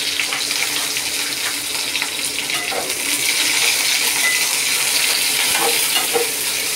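Onions frying in a pan with cumin, bay leaf and cinnamon give a steady, close hiss of sizzling oil, with occasional small clinks and stirring scrapes throughout.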